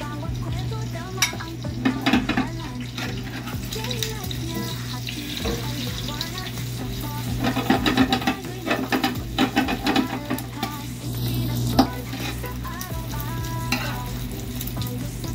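Scrambled eggs sizzling steadily in a frying pan during breakfast cooking, with intermittent scraping and tapping of a utensil stirring them, close and continuous.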